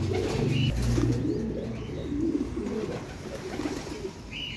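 Pigeons or doves coo close by in low, repeated throaty phrases, with a few faint chirps over a soft outdoor background.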